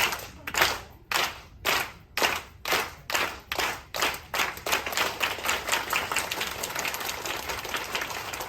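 A crowd on a Carnival Horizon cruise ship claps together, first in slow, loud, evenly spaced unison claps that then speed up into a faster, blurred rhythmic clapping with no speech.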